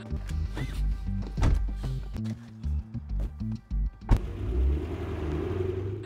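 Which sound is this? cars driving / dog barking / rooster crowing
cars driving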